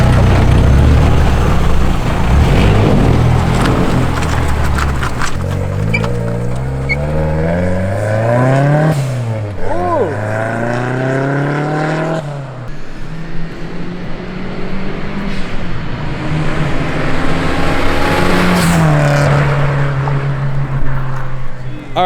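A turbocharged Nissan 240SX with a KA24DE-T engine does a loud flyby, revving hard with rising and falling engine pitch as it passes close, with excited voices talking over it.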